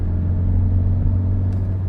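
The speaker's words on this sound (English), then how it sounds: "I do have the intake muffler removed, so it's got a little bit of an intake noise now too" A 2019 Honda Civic Sport 2.0 with its intake muffler removed and an RV6 downpipe hums at a steady low drone from a nearby cabin, with a constant low rumble and no talk.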